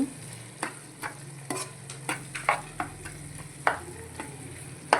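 Green egg curry being stirred in a pan on the stove, with a soft steady sizzle and a string of light spoon scrapes and taps recurring every half second or so, no voices.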